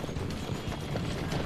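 Horse hooves gallop in Assassin's Creed II during a rough chase across a burning bridge, a quick, steady clip-clop rhythm heard close and fairly loud for a short burst, with no talk.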